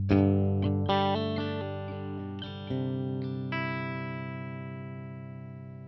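An electric guitar played through a UA Dream amp pedal with an NS2 noise gate rings out in a few strummed chords, each sustaining and then being cut off cleanly as the gate closes.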